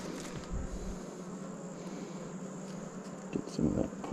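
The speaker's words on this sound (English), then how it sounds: "That's a lot of bees." A swarm of honeybees hums around a new beehive being smoked and opened, a steady low drone with occasional closer buzzes passing by.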